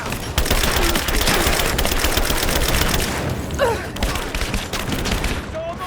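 Rapid automatic gunfire rattles in the video game Rise of the Tomb Raider, a loud sustained fusillade of overlapping shots with brief pauses, mixed with shouted combat voices.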